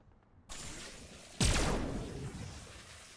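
A sharp burst of gunfire in a Fortnite match cracks out suddenly after a quiet start, followed by a rolling, fading tail with faint further shots.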